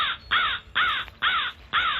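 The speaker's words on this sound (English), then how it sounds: "Oh, and a bird." A crow caws four times in a steady, evenly spaced series, loud and close, outdoors on a sunset hike at Haley Farm State Park in Groton, Connecticut.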